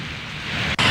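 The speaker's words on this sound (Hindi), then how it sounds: "मुरैना शहर की बात कर लें तो यहां पर झमाझम बारिश हुई" Heavy rain pours down over the city of Morena, a steady loud broadband hiss with a brief sharp dropout near the end before the downpour resumes.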